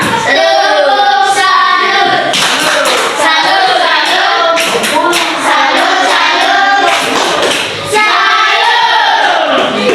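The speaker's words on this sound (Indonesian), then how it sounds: "tepuk tangan dulu untuk kalian semua" A primary-school class of pupils clapping their hands together in a classroom, loud, dense and continuous, with brief bursts of talk mixed in and one short dip near the end.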